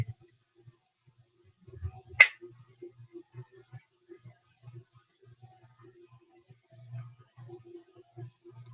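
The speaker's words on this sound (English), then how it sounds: "Once I snap my fingers, simply multiply it by a factor of 10." A single crisp finger snap rings out near the start, close and sharp, against a quiet room with a low faint voice murmuring around it.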